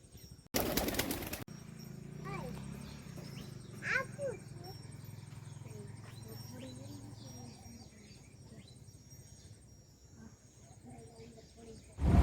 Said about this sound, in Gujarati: તો આપણે જોઈએ કબૂતર